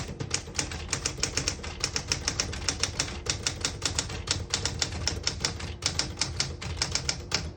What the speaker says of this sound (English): I'll type a sentence on the next line here.